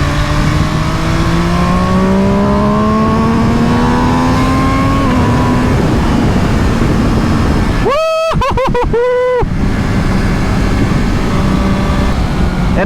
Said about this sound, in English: Slaloming back and forth with this bike. Very, very confidence inspiring.